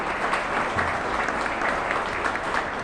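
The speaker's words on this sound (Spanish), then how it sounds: "les pido otro aplauso para ella" Audience applause for a magistrate at a judicial-reform event of labor lawyers, a steady, moderately distant patter of many hands clapping without a break for nearly three seconds.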